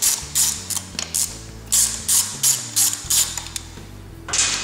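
A ratchet wrench clicks in repeated quick bursts while backing off the four 6mm nuts on the front axle pinch clamp of a 1986 Honda XL600R, crisp and close with brief pauses between strokes.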